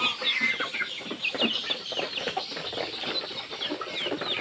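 Bangkok chickens cluck continuously in a busy poultry yard, overlapping calls from several birds close by, steady and fairly loud with no pauses.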